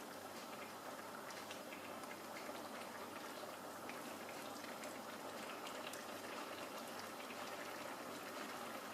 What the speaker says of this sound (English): I will allow this to boil for say 1 minute of time